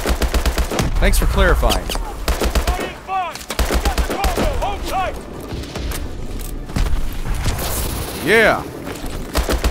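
Rapid bursts of automatic gunfire crackle through a Call of Duty: Advanced Warfare mission in Antarctica, loud and near, firing in repeated volleys with short gaps while voices talk over them.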